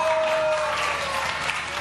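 Audience applause at a live quiz-show event: a dense, continuous wash of many hands clapping, fairly loud and sustained through the short stretch without a break.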